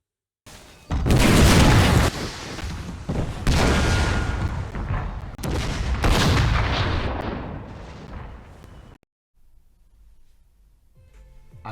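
Cannon artillery fire from a Napoleonic-era siege booms repeatedly, several loud heavy blasts with rumbling decay overlapping one another, then the barrage cuts off into near silence.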